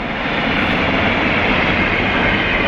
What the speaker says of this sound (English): and then here comes the train now.